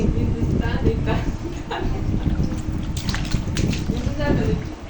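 Bathwater sloshes and splashes steadily around a baby in a tub, a close, continuous watery churning, with an adult voice talking over it.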